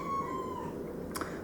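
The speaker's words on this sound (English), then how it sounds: "so that's why she's meowing" A cat meows once indoors, a drawn-out, slightly wavering cry that fades, followed by a brief faint click, fairly quiet against low room noise.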